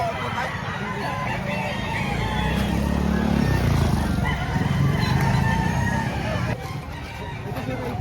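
Chickens and roosters cluck and crow at a busy poultry market in Lipa, Batangas, a dense, loud jumble of bird calls with a longer crow swelling mid-way, over faint engine and traffic noise.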